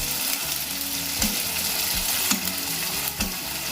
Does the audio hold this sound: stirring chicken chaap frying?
yes